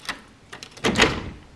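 A house door is unlocked and opened to let a cat out into the garden: a short click early, then a louder clunk and sweeping swing of the door, close and alone.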